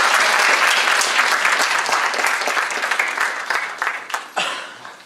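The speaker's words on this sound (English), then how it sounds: "Please give them all a round of applause." An audience at a poetry festival claps in a dense, loud burst of applause that gradually thins out and fades, with a few final scattered claps.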